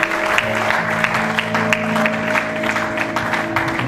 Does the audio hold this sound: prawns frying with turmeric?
no